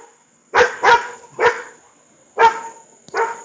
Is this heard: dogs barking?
yes